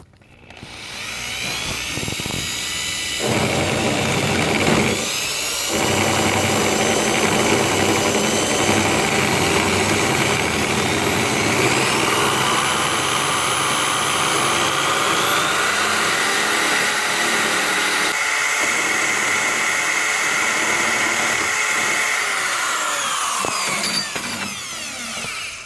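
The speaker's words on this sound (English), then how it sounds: "So I'm going to go ahead and grind this down." Drill-mounted grinder working down a steering shaft part on a third-generation Camaro or Firebird, a loud continuous high-pitched whine and grind with shifting pitch that runs nearly unbroken for about twenty seconds.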